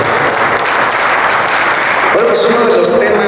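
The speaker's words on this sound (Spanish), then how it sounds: "vamos a darle un aplauso muy fuerte" Loud, dense applause for a singer at a storytelling afternoon in a museum, continuous clapping that carries on as a tonal sound, likely music or a voice, begins partway through.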